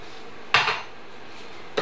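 Flour being mixed into melted butter in a pan, heard as two brief metallic scrapes and clinks of a utensil against the pan amid quiet.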